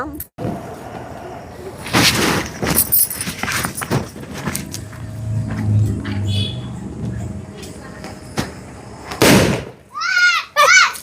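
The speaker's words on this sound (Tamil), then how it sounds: "நான் பட்டாசு வெடிக்க போறேன்" Firecrackers going off outdoors, several sharp loud bangs spread through the clip, with excited voices shouting in between and a rumbling stretch in the middle.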